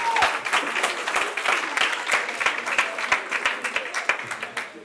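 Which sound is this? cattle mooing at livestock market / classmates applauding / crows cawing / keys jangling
classmates applauding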